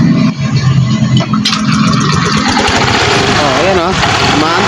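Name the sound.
Samurai 155 motorcycle engine starting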